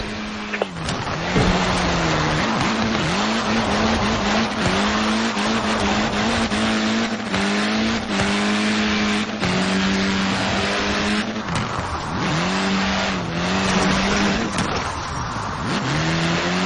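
A car drifting in Forza Horizon 4, its engine revving steadily with long, wavering tire squeals through continuous power slides, loud and close with no talking.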